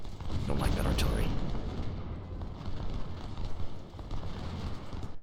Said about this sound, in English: Find that artillery that's shooting at us.